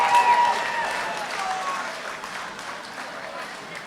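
Crowd applause at a fight night cage event, steady clapping that starts loudest and slowly fades, with faint talk underneath.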